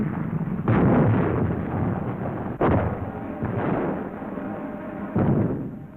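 Mortar fire in a Korean War newsreel: four heavy, booming blasts at intervals of a couple of seconds, each with a sharp onset and a rumbling decay, with no talking.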